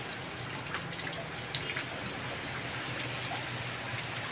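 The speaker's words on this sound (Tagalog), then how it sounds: "so grabe ka ulan sa Teres Cabasao" Heavy rain pours at night in Teres Cabasao, a dense, steady hiss with occasional faint drips and no voices.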